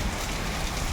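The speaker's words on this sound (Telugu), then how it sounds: "చూడండి గొద్ద దింగేస్తుంది వర్షం." Heavy rain pouring down in Srikakulam, a dense, constant hiss of water drumming on surfaces, loud and unbroken across the brief moment with no speech.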